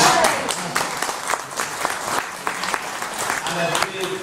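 An audience at a film event at the Museum of Liverpool claps for producer Kim Ryan: a steady patter of hand claps with distinct individual slaps, mixed with voices talking.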